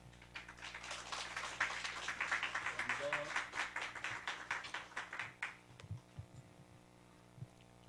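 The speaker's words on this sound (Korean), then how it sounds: "우리 교수님 나오실 때 박수로 환영하겠습니다" A church lecture audience applauds to welcome a professor to a social service class, a moderate burst of clapping for roughly five seconds that fades out, heard a bit distant over a low steady hum.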